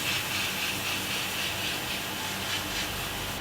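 An airbrush sprays paint onto a Revell 1/53 AT-AT model kit, a steady, close, even hiss that runs continuously with slight swells.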